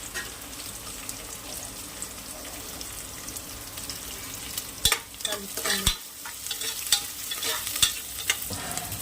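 Green chillies and onion with curry leaves fry in a pan for a Telangana-style curry, a soft steady sizzle with stirring scrapes and clinks growing busier toward the end, close and moderately quiet.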